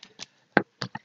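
Oracle cards being shuffled and drawn from a deck: a few short, crisp riffles and slaps in quick succession, close and fairly quiet, with no talking.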